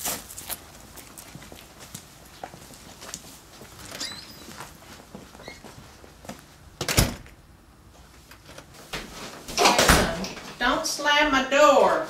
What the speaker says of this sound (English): Slam my door.